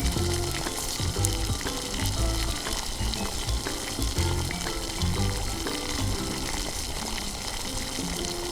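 Crispy potato nuggets fry in oil in a pan, a loud, bubbling sizzle with a watery, churning texture that runs on without pause.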